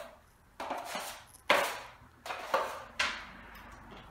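A wide drywall knife skims joint compound across a painted popcorn ceiling, giving four rasping scraping strokes with short pauses between them, close by and with no talking.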